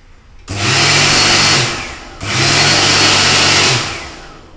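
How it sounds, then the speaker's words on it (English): A Bradley hand dryer with a faulty motor runs in two loud, close bursts of steady whirring motor and rushing air, each lasting about one and a half to two seconds with a short pause between, and no voices. "This is a Bradley hand dryer, the label has come off."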